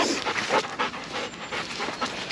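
Toby, an overexcited, reactive Labrador, pants heavily and rapidly up close in steady breathy bursts, loud and continuous, with no talking over it.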